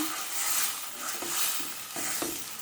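Tamarind pulihora mixture is stirred and simmers in a pan, a continuous close bubbling sizzle with soft rhythmic stirring swishes every half second or so.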